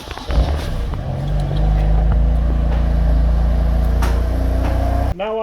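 BMW M3 F80 engine firing up and settling into a loud, steady idle rumble after the alarm is disarmed, close by, ending with a brief revving change at the end.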